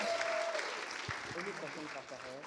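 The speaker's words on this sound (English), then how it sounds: "I think Nanaba deserves a round of applause." Faint, steady applause from an audience at a Paris women's event, spread evenly and fading slightly, with a voice speaking over the tail end.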